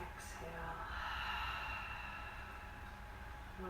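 Deep yoga breathing, a big inhale followed by a long, steady exhale through the nose, heard close over a constant airy room background.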